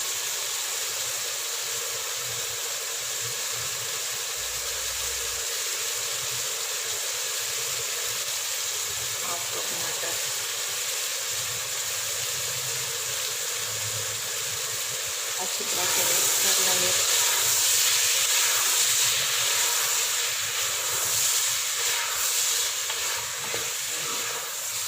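Soaked chopped potatoes and two cut carrots sizzle in a cooking pot for a Punjabi-style mixed vegetable dish, a steady hiss that swells louder and brighter midway, with faint clinks of stirring.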